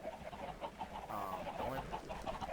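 Chickens in a Minecraft egg farm cluck in short repeated bursts, moderately loud and close, with a voice talking faintly over them.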